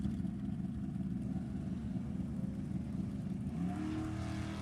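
A 1967 Ford Mustang with a 347 cubic inch Ford engine rumbles at a drag strip in a low, steady idle, then a second, rising engine note joins near the end.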